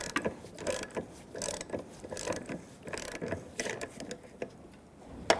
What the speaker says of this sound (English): using a 10mm, tighten up this bolt for your filler neck